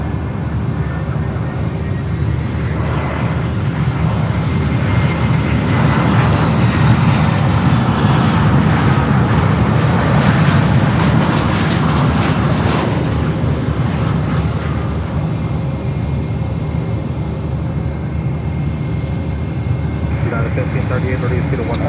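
An Air Canada Rouge jet arrives at Fort Lauderdale airport with a loud, steady engine roar that swells and fades over about twenty seconds while people talk over it.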